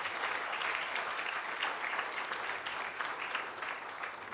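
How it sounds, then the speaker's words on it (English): A symposium audience at a law college claps steadily, many hands together in a dense, fairly loud and sustained round of applause with no break. "Please give him a big round of applause."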